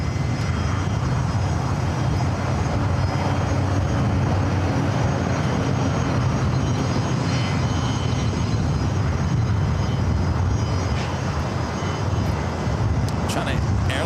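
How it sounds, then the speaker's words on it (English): A LATAM Boeing 787 Dreamliner bound for Sao Paulo rolls down runway 25 right at Los Angeles airport, a loud continuous engine rumble and roar sustained throughout, with a person speaking over it. "The LATAM Dreamliner heading to Sao Paulo, Brazil, now rolling down to 25 right."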